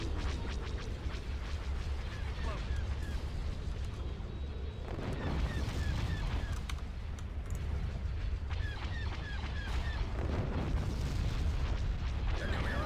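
Laser cannons fire and explosions boom in a Star Wars space battle video game, with dense, continuous blasts and bursts layered over a rumbling background. Short zapping shots repeat throughout.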